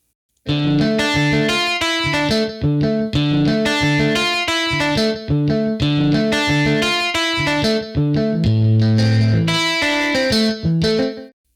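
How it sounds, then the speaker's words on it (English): Music pushed into extreme saturation, a crunchy, compressed distorted sound playing loud and continuous in a repeating rhythmic pattern, with no talking. "This is now extreme saturation, which is called distortion."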